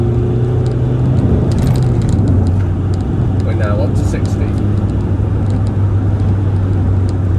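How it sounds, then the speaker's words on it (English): A Mk2 Toyota RAV4 with a 2-litre 115 bhp D4D diesel engine drones steadily while accelerating on the road, its low engine hum running under someone speaking inside the cabin. "We've got 115 brake horsepower from this 2-litre diesel engine."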